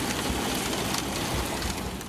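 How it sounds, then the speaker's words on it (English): Hail from a severe storm in Poulsbo, Kitsap County, pours down in a dense, loud, steady rush of impacts with no voices. "This was the rush of hail from Polesbo."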